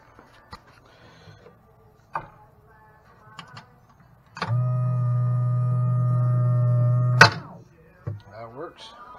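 A bilge pump on a small Gheenoe boat, triggered by its float switch, starts abruptly and hums steadily and loudly for about three seconds before stopping with a click. Brief clicks and a voice come before and after.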